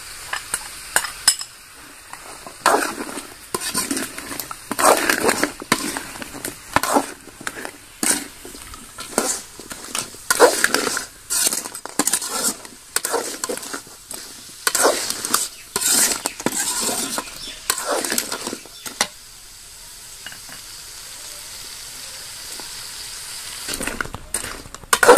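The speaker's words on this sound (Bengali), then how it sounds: "এবার আমি এখানে আদা রসুন বাটা দিয়ে দিচ্ছি।" Ginger-garlic paste fries in a pan for a spicy crab and potato curry, giving off bursts of sizzling mixed with repeated clinks and scrapes of a spatula, close and busy, with a quieter settling sizzle near the end.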